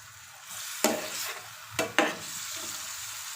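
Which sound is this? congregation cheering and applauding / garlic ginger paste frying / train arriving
garlic ginger paste frying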